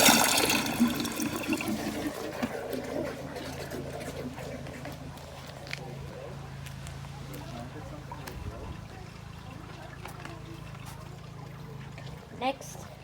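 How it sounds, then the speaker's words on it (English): A 2017 WaterRidge dual flush toilet flushing close up, with a loud rushing surge at the start that fades into a long, gurgling trickle as the tank refills. Someone speaks briefly near the beginning. "Next is a close-up flush."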